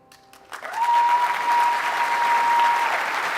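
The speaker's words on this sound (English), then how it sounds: "A big round of applause to Yash." Audience at a stage talk event applauds a speaker, clapping swelling in after a brief quiet start and holding steady and full, with a thin tone running beneath part of it.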